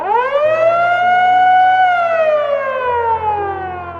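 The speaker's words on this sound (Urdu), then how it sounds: "وہ سائرن جو شاید کوئی بھی سیلر اپنی سروس میں سننا ہی نہیں چاہتا۔" A naval base air raid siren wails loud and near, its tone climbing to a sustained howl and then slowly sinking, with a low hum beneath and no voices.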